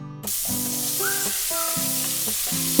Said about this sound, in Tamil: இப்போ நம்ம அது சின்ன வெங்காயத்தை போட்டுக்கலாங்க